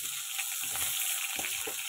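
Mango pieces drop into panch phoron and a dried red chilli frying in oil in a pan, giving a close, continuous sizzle with several soft stirring thumps and clinks and no speech.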